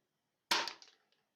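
A children's toy airsoft pistol fires a single sharp, close crack with a short rattling decay, alone in otherwise silent surroundings.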